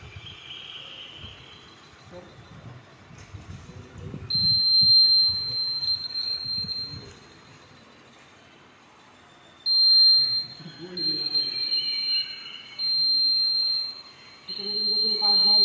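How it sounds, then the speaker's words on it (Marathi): Laser light security alarm built as a student electrician project, sounding a shrill high electronic tone in repeated bursts of a few seconds each, with people talking nearby between and under the beeps. "laser light security alarm"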